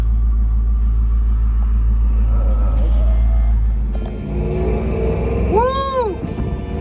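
An old Land Rover Discovery engine rumbles loud and close, its low drone shifting as it accelerates. A high swooping whine and a voice come through near the end.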